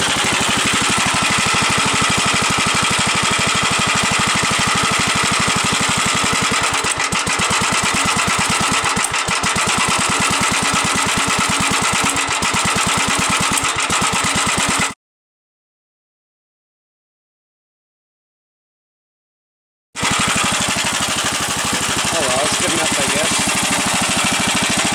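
A Gravely walk-behind tractor engine idles steadily after a repair, a loud, continuous mechanical chugging with some rhythmic knocking, cutting out to silence for several seconds before resuming.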